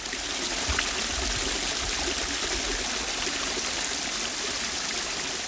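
Water flowing steadily through recycled-water garden features set among tropical forest in Hawaii, a continuous, even trickling and rushing wash that runs unbroken throughout.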